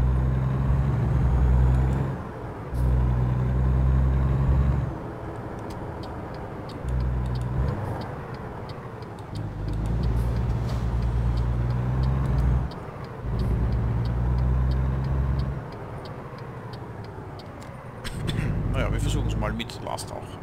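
Truck engine in American Truck Simulator, a low steady drone that drops and returns in stages as gears shift, with someone talking over it.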